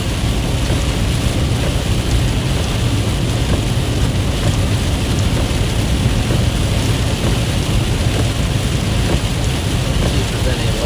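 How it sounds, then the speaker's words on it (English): Heavy rain pours down during a storm in Fort Worth, Texas, making a loud, dense, unbroken roar that holds steady throughout. "It's just quite the rainstorm."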